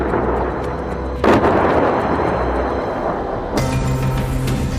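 A blast near the entrance of Turkey's interior ministry comes through as loud, rough bursts of broadband noise, with a second sharp burst following the first a few seconds later, and no voices.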